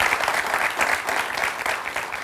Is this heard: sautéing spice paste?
no